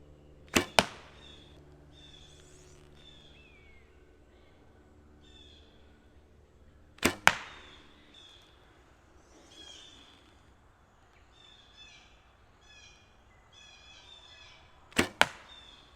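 Arrows from a NASP Genesis bow are shot and strike the target in three separate sharp double thwacks about seven seconds apart. Faint birdsong chirps in the quiet outdoor background between shots.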